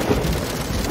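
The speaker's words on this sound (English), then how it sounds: "Rain!" A toy keyboard plays a rain sound effect: steady, dense patter of falling rain with a low rumble underneath, continuous and fairly loud for about a second, with no voices.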